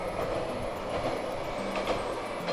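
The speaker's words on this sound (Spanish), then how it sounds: "En la distancia, el sonido de trenes hace eco de vez en cuando." Distant trains echoing along a clear river valley in Gifu Prefecture, Japan, a steady rumbling rail roar with faint rhythmic wheel clatter, continuous and diffuse across the valley.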